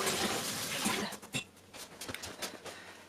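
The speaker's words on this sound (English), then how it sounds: "Let me just give my hands a quick rinse." A kitchen tap runs as hands are quickly rinsed, a short burst of splashing water that cuts off after about a second, followed by faint clicks and handling noises.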